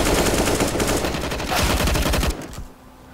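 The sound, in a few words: machine gun fire in a video game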